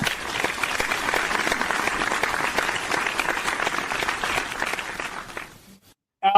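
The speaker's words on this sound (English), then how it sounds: "let's just give him a round of applause, please" Applause for a guest on a football roster-building show rattles steadily for about five seconds, dense and fairly close, then fades out into near silence before a brief sound at the very end.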